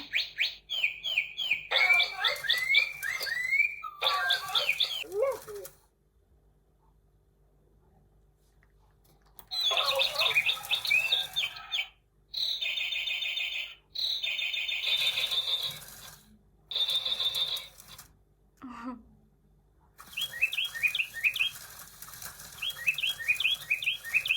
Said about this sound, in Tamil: அந்த குருவியோட சத்தத்தை மட்டும் அது போடும்.